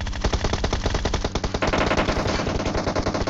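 Rapid automatic gunfire in PUBG Mobile rattles out as a loud, dense, continuous stream of shots for a few seconds with no speech.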